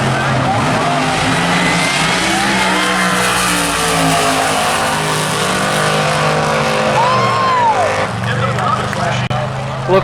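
Drag racing cars Brutus and the Nimrod thunder down the strip in a loud, sustained engine roar with crowd noise and an announcer talking over it.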